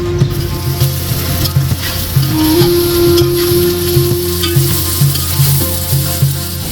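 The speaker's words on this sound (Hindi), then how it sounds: "आधा किलो मैंने प्याज ली थी, इसे बारीक बारीक काट लिया था। अब इसे हम फ्राई कर लेते हैं।" Half a kilo of finely chopped onions frying in hot oil, a loud, steady close sizzle with occasional stirring scrapes and a faint rhythmic hum underneath, no talking.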